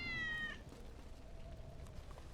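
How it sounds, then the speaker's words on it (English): Wedge's cat in Final Fantasy VII Remake gives a single short, clear meow at the start, then faint low ambience follows with no talking. "Yep, that's Wedge's kitty."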